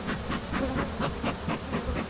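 A beekeeper's smoker puffs near a busy hive, a series of rhythmic breathy hisses about every quarter second over a constant background hum of bees.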